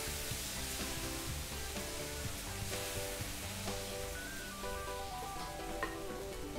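Rava dosa batter of semolina sizzling on a hot griddle, a steady close crackling hiss with tiny popping bubbles throughout, no voices.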